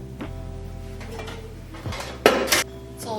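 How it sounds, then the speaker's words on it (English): Metal baking pan and utensils clatter and scrape as the pan is prepped in a home kitchen, with a few sharp clanks standing out near the end, close and fairly loud. "I didn't prep my pan, so let me do that"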